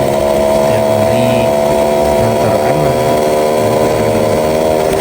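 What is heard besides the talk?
Yamaha Alfa motorcycle engine while riding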